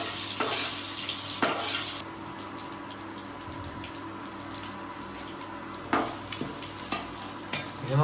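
Chana dal, urad dal, curry leaves and chillies fry in hot oil for uppittu, a loud crackling sizzle that settles into a softer, steady frying hiss with occasional bursts of spitting.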